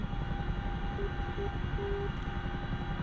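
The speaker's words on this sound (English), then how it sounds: "it's a very noisy helicopter, isn't it?" Steady engine drone of a helicopter in the DCS World flight simulator, a constant low rumble with a tonal hum and occasional brief higher pitched tones over it, unbroken throughout.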